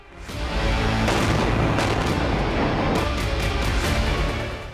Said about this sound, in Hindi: ब्लास्ट की गूंज सुनकर दहल उठे लोग।